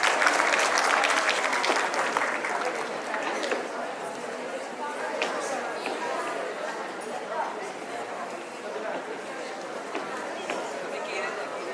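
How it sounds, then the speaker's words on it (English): An audience applauds at a school awards ceremony, a loud sustained clapping that is densest at the start and then settles into steady applause for the rest, with crowd chatter mixed in underneath. "Let's give them a big round of applause."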